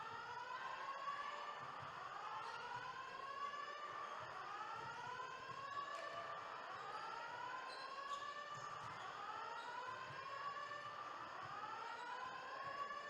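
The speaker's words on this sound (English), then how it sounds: "Now he's got the strobe lights and the siren" A fire alarm siren wails through a basketball gym during a championship game, repeating rising-and-falling sweeps in a steady cycle, faint and echoing, with a high electronic tone under it and light court noise.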